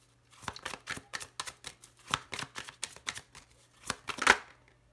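Small Lenormand oracle cards are shuffled by hand in a quiet room, giving a soft rapid run of riffling flicks and taps with a slightly louder burst near the end.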